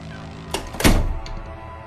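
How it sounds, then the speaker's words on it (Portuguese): A door shut behind someone in a house: one dull, close thunk after a brief faint knock, then quiet. "Fechei a porta atrás de mim."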